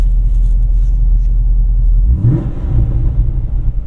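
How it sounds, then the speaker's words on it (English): A Chevy SS (Holden Commodore) fitted with American Racing long tube headers and an X pipe idles with a deep, loud rumble, then is revved while stationary, the exhaust note swelling in a single surge. "when I rev the gas when I'm stationary"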